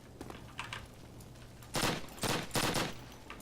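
PPSh submachine gun fire in a World War II Call of Duty game: a few faint distant pops, then three loud close bursts of rapid automatic fire.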